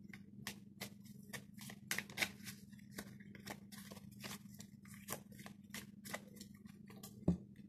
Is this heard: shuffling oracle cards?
yes